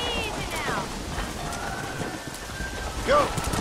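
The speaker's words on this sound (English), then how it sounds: "It's gonna be hard shouting over this storm." Steady rain from a storm in Red Dead Redemption hisses across the whole scene, with a bird call near the end and someone talking over the downpour.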